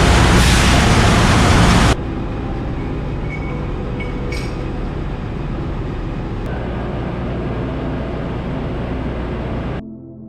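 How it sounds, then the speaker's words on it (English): Loud, steady mechanical roar of heavy running machinery fills a ship's engine room, with a harsher burst at the start and an abrupt drop at the end. "It is a place with a lot of running machineries, hot surfaces, rotating parts"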